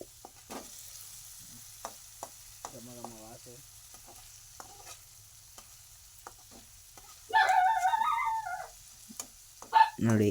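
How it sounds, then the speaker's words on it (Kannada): Tomato frying in a pan for egg bhurji, a quiet sizzle broken by sparse taps of a utensil, with a dog whining and howling partway through. "ಟೊಮೆಟೊ ಹಾಕಬೇಕು, ಚೆನ್ನಾಗಿ ಫ್ರೈ ಮಾಡಬೇಕು"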